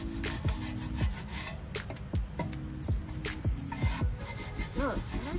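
Grimy alloy wheels on a Saab are scrubbed with a cleaning product and brush, making repeated close, rhythmic rubbing strokes in an even back-and-forth pattern, with no voices over them.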